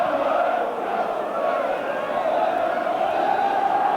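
A near-capacity football crowd at a 1990 Middlesbrough v Aston Villa Zenith Data Systems Cup second leg, mostly Middlesbrough supporters, keeps up a dense, continuous roar of chanting and cheering that stays loud and steady throughout.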